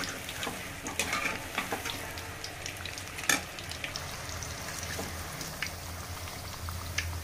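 Raw jackfruit kebabs frying in hot oil, a continuous crackling sizzle with scattered sharp pops and spits, close and steady with no talking.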